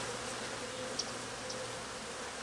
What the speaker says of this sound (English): I've got bees all over me